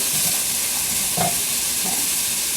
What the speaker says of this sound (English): This is called stir to coat.